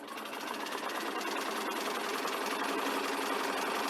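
A sewing machine runs steadily throughout, stitching a garment's front band at a 5/8 seam allowance with right sides together, a close continuous mechanical whir with a fine rapid needle rhythm and no pauses.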